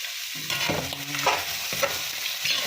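Kare-kare ingredients sauté in a hot pan, a close, steady sizzle broken by several scraping stirs, with no voices.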